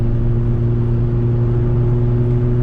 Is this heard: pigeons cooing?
no